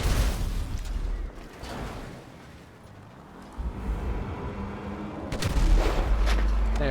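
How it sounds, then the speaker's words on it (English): In Grand Theft Auto V, a grenade goes off beside a van and wrecks it, giving a loud, rumbling blast with sustained roaring noise afterward and a heavy, booming low end near the close. "We'll just do it with a grenade then."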